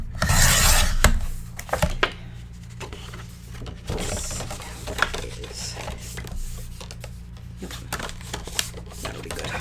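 Paper being trimmed for a flip book, with a burst of cutting and rasping at the start followed by quieter scraping, tapping and handling noises, close and intermittent.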